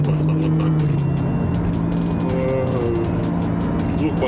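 Ford Explorer Sport engine running with a steady low rumble and slight pitch shifts throughout, close and continuous, with someone speaking over it.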